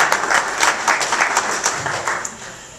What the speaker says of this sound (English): give yourselves a round of applause, the Homer Lockport Tea Party organization